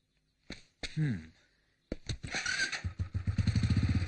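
A motorcycle engine nearby, a couple of short bursts, then it starts and settles into a steady, throbbing idle.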